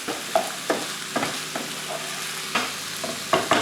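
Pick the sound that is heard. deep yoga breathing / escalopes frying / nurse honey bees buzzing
escalopes frying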